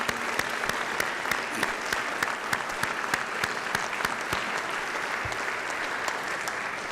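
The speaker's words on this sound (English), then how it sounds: "And a round of applause." A room of memorial service attendees gives a steady round of applause, dense continuous clapping at even loudness with crisp hand claps throughout, no voices over it.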